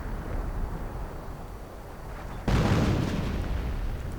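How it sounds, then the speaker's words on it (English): Artillery fire in a real-time strategy match, a sudden heavy boom after a steady rumbling battlefield background, followed by a sustained loud roar of blasts and debris. "Actually, there's artillery going in directly on them."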